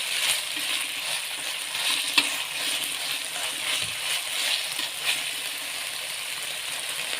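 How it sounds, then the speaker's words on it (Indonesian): Ginger and turmeric sautéing in a pan for a Betawi pesmol fish dish, a continuous bright sizzle throughout with one sharp utensil clink and a few soft stirring touches, with no speech. "Tumis kurang lebih 2-3 menit ya, sampai benar-benar harum apa ya, jahe kunyitnya nggak langu gitu."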